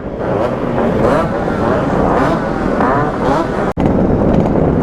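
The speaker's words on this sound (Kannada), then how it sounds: "ಈಗ ಒಂದೊಂದೇ ಗಾಡಿ ಪಾಸ್ ಆಗ್ತವೆ" Yamaha RX two-stroke motorcycles from an owners' club ride past one after another at an Independence Day event outside a government school, a loud, continuous engine rush buffeted by wind noise, broken by one brief drop.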